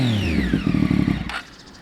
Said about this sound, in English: And this bike is extremely loud